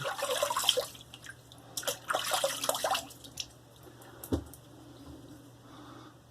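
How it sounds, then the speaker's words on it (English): Water splashes and trickles as shaving lather is rinsed off after a straight-razor shave, coming in a few quiet bursts of running water and drips, with a faint clunk partway through. "let me rinse that off and see where I'm at."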